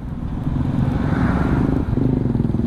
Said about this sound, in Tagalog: Big bike oh, parang Harley.